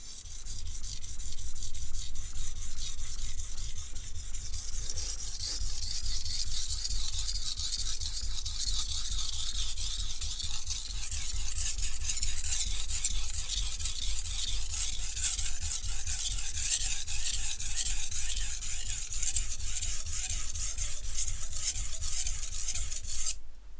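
Knife with an asymmetrical bevel drawn steadily across a sharpening stone, a continuous close gritty rasping scrape that runs without a break and stops abruptly at the end.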